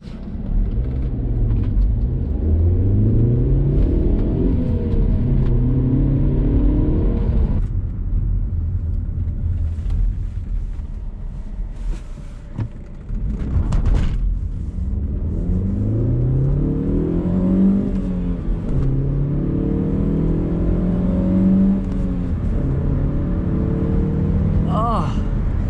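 An Alfa Romeo 147 Lusso engine revs while driving, rising and falling through several throttle sweeps under steady road rumble, with a voice talking over parts of it.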